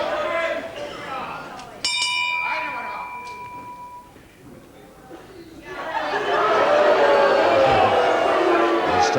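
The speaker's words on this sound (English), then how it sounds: "Right on the bell now, round 1." At a wrestling match, a single sharp ring of the round bell cuts through crowd chatter and announcer talk, rings out and fades over about two seconds, and then the crowd noise swells loudly.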